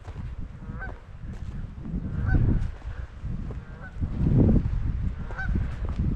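Canada geese honk repeatedly from close by near water, loud calls rising and falling over a steady low rumble of outdoor noise.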